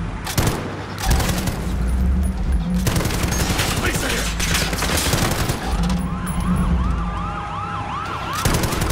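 Police sirens wail in the video game Call of Duty: Modern Warfare, a rising and falling tone emerging over loud, continuous gunfire, engine roar and chaotic combat noise, with a voice shouting briefly.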